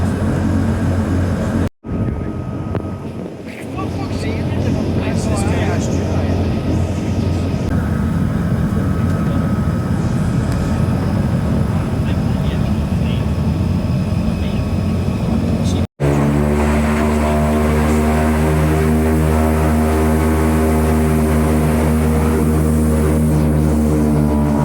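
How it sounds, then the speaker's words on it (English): A Loganair Twin Otter propeller plane taxis out to the runway at Glasgow International Airport, its loud steady turboprop drone heard from inside the cabin, with a rising propeller whine and pulsing beat near the end. "With our pushback completed, we began our taxi out to Glasgow International Airport's runway 23."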